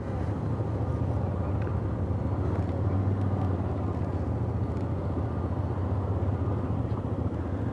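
Hyosung GT250 five-speed motorcycle being ridden, a steady low engine drone mixed with road and wind rumble, constant and moderately loud throughout.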